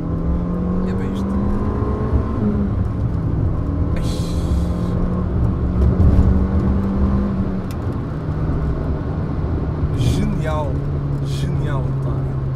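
A Peugeot 106 GTi runs with a steady, loud engine drone heard from inside the car as it drives, its pitch shifting slightly, while people talk over it throughout.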